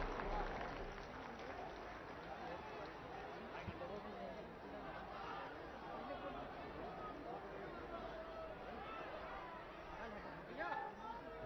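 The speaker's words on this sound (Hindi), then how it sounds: "आप सबकी जोरदार तालियों के बीच" Crowd noise fills an outdoor PM Modi event in Prayagraj, a steady wash of applause and chatter from a large audience that holds at an even level throughout, with murmuring voices blended in.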